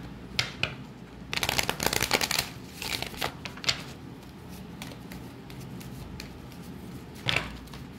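A deck of tarot cards shuffled close up, with bursts of riffling and soft papery flutters separated by quieter pauses.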